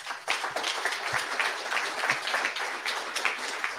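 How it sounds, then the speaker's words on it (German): Audience applause at the opening of a BarCamp 2022 conference, steady dense clapping from a crowd filling the room for several seconds. "Jetzt muss leider jeder einen einzelnen Applaus bekommen"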